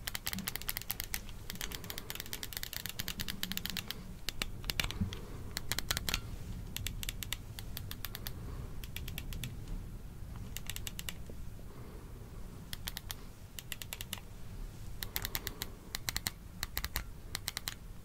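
Rapid, crisp clicking of keyboard keys and Wii controller buttons, close and quiet, in dense irregular bursts with brief pauses, like a pen clicking, over a soft background hiss.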